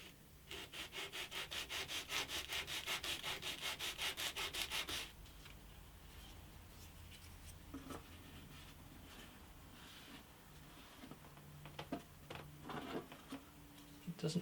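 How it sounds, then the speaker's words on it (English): Sandpaper sanding the edges of fresh veneer on the front of an antique parlour guitar, with quick rhythmic back-and-forth strokes for several seconds, then quieter scattered handling noises. "Sandpaper takes it down really quite quickly."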